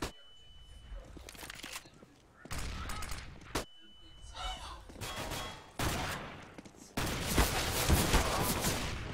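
Gunfire in a Counter-Strike tournament finals match, bursts of rapid shots broken by short gaps and building into heavier sustained fire toward the end, with a commentator talking over parts of it.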